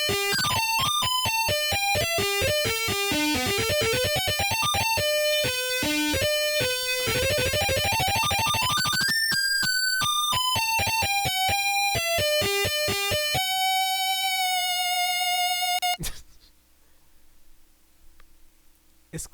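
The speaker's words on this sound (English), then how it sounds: "So you have like real guitars and Soundfont guitars playing at the same time for this." Real guitars layered with Soundfont guitars in a dense electronic album arrangement, fast stacked notes and chords rising and falling continuously, then thinning to a single sustained tone before stopping abruptly.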